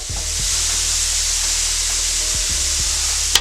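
Shrimp sizzle steadily on a Steelmade hibachi grill, a loud, constant frying hiss with a low hum beneath and a brief metallic tap near the end.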